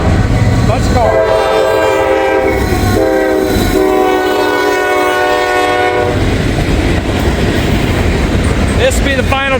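A freight train with a single locomotive hauls a string of cars past at close range, its horn sounding in long, loud blasts for several seconds before the steady rumble and clatter of the wagons carry on.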